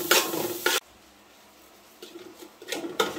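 A spoon stirs ground spice paste in a hot pan for a Kerala fish chilli curry, giving close scraping bursts with a soft sizzle underneath and a quiet gap midway.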